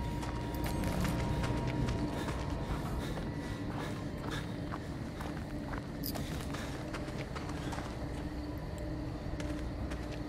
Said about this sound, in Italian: O cavallo.